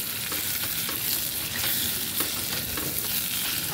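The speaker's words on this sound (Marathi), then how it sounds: "मऊसर होईपर्यंत आपल्याला वांगी तेलात परतायची" Brinjal pieces are sautéed in hot oil for spiced brinjal rice: a loud, continuous, close-up sizzle broken by soft scraping stirs and no talking.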